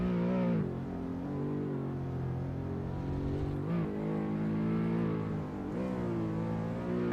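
Racing video game engine drone as a car warms its tires before a touge time attack run, a steady harmonic whine that rises and dips with throttle changes, continuous and moderately loud, no talk.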